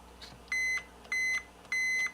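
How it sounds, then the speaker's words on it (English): A pushed button on a controller for an LED diorama gives three evenly spaced electronic beeps, each about a quarter second long, clear and close with faint handling noise between them. "if I push the button, it should beep"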